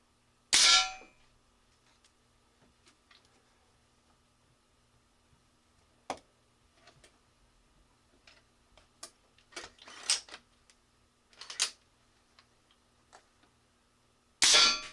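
357 Elite Challenger rifle firing a string of shots, sharp cracks spaced irregularly with faint mechanical clicks between them, fairly quiet and distant.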